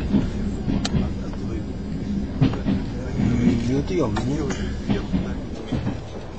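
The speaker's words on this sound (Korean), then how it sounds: "나는 블라디보스톡으로 돌아가는 기차에 다시 몸을 실었다." A passenger train travels on rails toward Vladivostok in Russia, giving a steady rumble with intermittent clatter and clanks throughout, while people talk briefly over the noise.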